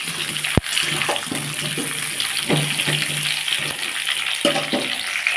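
Small whole potatoes frying in a covered pan for a Bengali-style aloo dum, a continuous close sizzling hiss with bubbling spatter and a sharp clack near the start, no talking.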